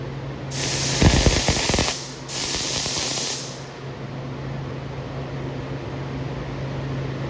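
A spray gun lays clear coat onto an arcade cabinet's sides and front, giving two loud, steady bursts of hissing spray, the first about a second and a half and the second a little shorter, then a low background hum.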